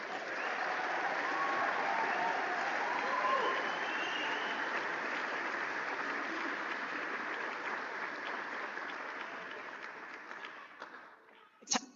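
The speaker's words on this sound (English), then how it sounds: "Can we give them a round of applause?" Sustained applause from a concert audience for a middle school all-county honors band, a dense, even wash of clapping that gradually thins and fades out, ending with a few scattered claps and a light knock.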